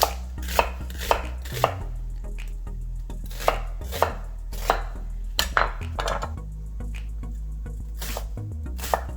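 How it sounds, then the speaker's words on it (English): Knife chopping a red onion on a cutting board for a homemade bean burger, with a series of sharp, close taps in an uneven rhythm and no talking. "we are going to cut the red onions"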